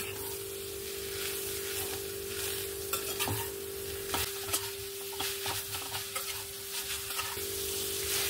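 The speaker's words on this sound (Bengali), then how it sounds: "এবার নারকেলের সঙ্গে ভালো করে মিক্স করে নেব।" Coconut and jaggery being stirred for a patisapta pitha filling, with steady scraping and soft sizzling in a pan, irregular stirring strokes close up and no talk.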